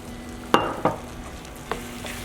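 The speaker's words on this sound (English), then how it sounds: "Just leave it in the pan, keep stirring." Close, sticky sounds of a spoon stirring mushroom risotto with cream in a pan, with a few distinct scrapes against the pan over a soft, continuous sizzle.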